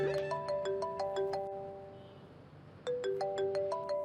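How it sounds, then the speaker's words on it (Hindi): A mobile phone rings with an incoming call, playing a repeating electronic melody of bright tones in two bursts separated by a short gap, clear and close with nobody talking. "लो, तुम्हारी दादी का फोन आ रहा है"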